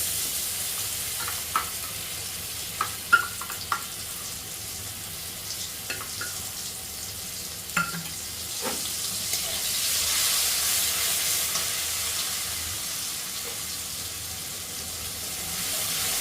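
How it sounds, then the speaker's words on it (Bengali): Ground spice paste fries in a pan over a lowered gas flame for chhana dalna, giving a steady close hiss that swells midway, broken by scattered spoon taps and scrapes. "গ্যাসের ফ্লেমটা কমিয়ে মশলাটাকে কষাতে হবে"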